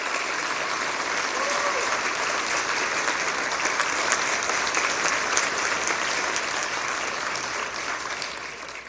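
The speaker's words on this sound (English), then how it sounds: "let's give him a round of applause" A university hall-of-fame audience applauds a 93-year-old Korean War veteran and longtime professor, a dense, sustained wash of clapping that holds steady at full strength and tapers slightly at the very end.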